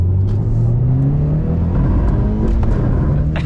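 A Mitsubishi Evo VIII under way with a noisy differential gives a steady rising whine over low road and engine rumble, loud and close inside the car, with no talk.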